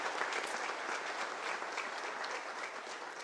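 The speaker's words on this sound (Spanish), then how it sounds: "Se merece otro aplauso la ciudad de Caacupé" A congregation at an Easter Mass in Caacupé applauds, dense continuous clapping from many hands that holds steady throughout without any voices over it.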